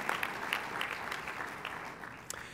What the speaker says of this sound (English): Let's show a round of applause for all of them